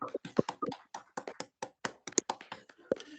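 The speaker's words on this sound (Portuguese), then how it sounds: "A Jesus, as nossas palmas." A small group claps together at a home religious gathering, the sound coming as uneven, separate close hand slaps rather than a dense roar, with a few scattered voices.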